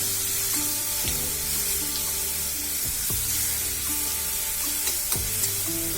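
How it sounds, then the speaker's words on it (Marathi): A turmeric and asafoetida mixture with crushed garlic is stirred in a hot pan and sizzles steadily for six seconds. Clear spoon scrapes against the pan come at intervals, with no talking. "आणि हळद आणि हिंग आता आपण हे सर्व मिक्स करून घेणार आहोत"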